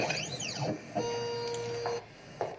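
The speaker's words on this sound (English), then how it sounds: "now we make sure that the machine is nice and calibrated" A Carvey CNC carving machine calibrating gives off whirring motor tones that sweep up and down in pitch, then settles into a steady high electronic hum, with short bursts of motion near the end.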